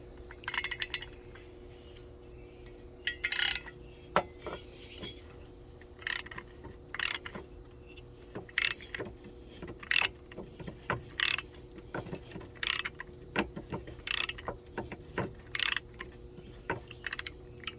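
A tap cutting new threads in a motorcycle engine head on a KE175, giving quiet irregular metallic clicks and ratcheting scrapes in short bursts over a low steady hum.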